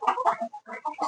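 A free-range country hen on a planned hill-area farm clucks in short bursts, several close, clear calls separated by a brief pause.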